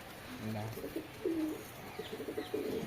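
Pigeons coo close by in low, throaty, repeated calls, with soft rustling in the background.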